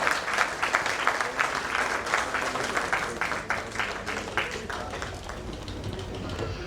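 A packed hall at a book launch ceremony bursting into loud, sustained applause from front to back, a dense wash of many hands clapping at once that holds steady before thinning slightly toward the end.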